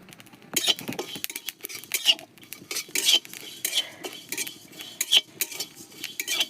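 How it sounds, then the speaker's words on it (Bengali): Cumin seeds being stirred as they fry in a pan for pickle-making, giving rapid, close metallic scrapes and clinks of a spoon against the pan in uneven bursts, with a faint frying hiss underneath. "জিরে ভাজা করব।"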